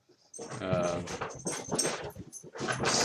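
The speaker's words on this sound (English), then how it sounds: "Most of my dogs are spazzing out, spaztastic." Several dogs bark and whimper excitedly close by, a run of short yelping bursts and whines packed together over about three seconds.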